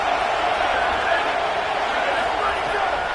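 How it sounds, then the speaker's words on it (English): A college football stadium crowd roars steadily for the Tennessee defense on third down at South Carolina, a dense, unbroken wall of noise with a commentator talking over it. "Decibels rising as the crowd gets behind this defense on third down."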